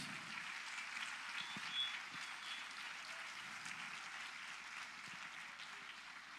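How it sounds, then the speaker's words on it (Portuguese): Distant, faint applause from a church congregation, a steady soft patter of many hands with no voices standing out. "Pode aplaudir a Jesus."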